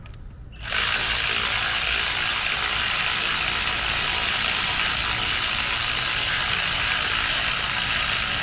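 A ratchet tightens alternator bolts on a 6.2L V8 engine, a steady rapid clicking that starts abruptly after a brief quiet moment and runs loud and close throughout.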